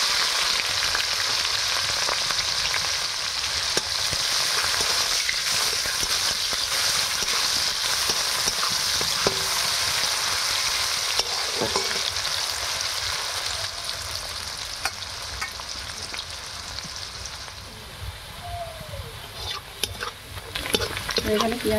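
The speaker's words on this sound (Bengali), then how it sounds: "এখানে পেঁয়াজটা ভাজা হয়ে গেছে।" Onion sizzles steadily in hot oil in a pan, a dense continuous frying hiss with occasional stirring scrapes, fairly loud and close.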